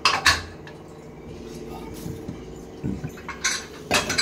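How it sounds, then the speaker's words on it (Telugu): A pressure cooker whistle is set onto the lid, heard as a few sharp metallic clinks and knocks separated by quieter stretches, close by. "చూడండి, మూత వేసేసిన తర్వాత మళ్ళీ విజిల్ పెడతారండి."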